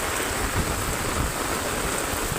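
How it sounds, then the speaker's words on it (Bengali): Heavy rain falls by the Muhuri river in Parshuram, Feni, a steady, moderately loud hiss with a low rumble beneath and no voices. "বৃষ্টি খুবই বৃষ্টি হচ্ছে বৃষ্টি থামার কোনো সম্ভাবনাই নেই বললেই চলে"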